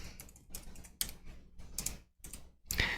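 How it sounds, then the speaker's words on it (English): Typing on a computer keyboard, with quick bursts of close, crisp key clicks separated by brief pauses and no talking. "Go ahead and start typing here."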